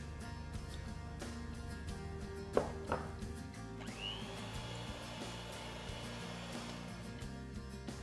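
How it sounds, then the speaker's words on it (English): An electric mixer creams butter and brown sugar together for a Mississippi mud pie filling. A quiet, steady whir runs alone with a couple of faint knocks, then rises to a higher, busier hum partway through. "I'm creaming the butter and sugar together here."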